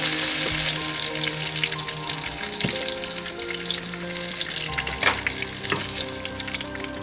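Romano cheese and panko crusted snook fillets sizzle steadily in a hot pan, a continuous close frying hiss with occasional sharper crackles and soft stirring clinks, no voices.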